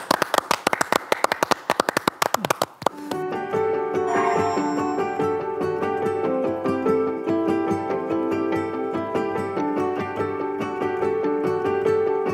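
A studio audience on a Korean TV program claps in a brisk burst of applause lasting a few seconds, which then gives way to music.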